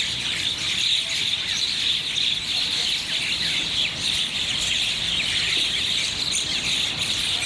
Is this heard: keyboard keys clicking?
no